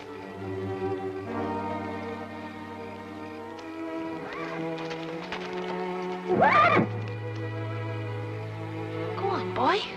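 Horse neighing in a western setting, with a sharp whinny rising over a background of music and low voices, followed by a second shorter neigh near the end.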